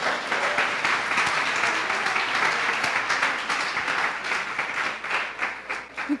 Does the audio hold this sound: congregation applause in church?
yes